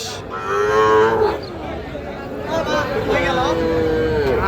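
Sahiwal bull calves at a cattle market in Ghoraghat, Dinajpur give two long, loud moos close by, with a faint murmur of market noise behind them.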